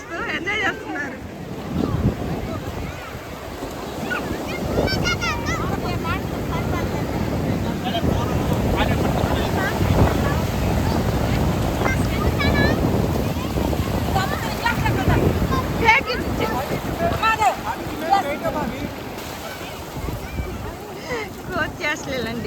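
Sea waves wash in steadily at Chirala Ramapuram beach, a continuous rushing surf mixed with wind buffeting the microphone, while people talk nearby throughout.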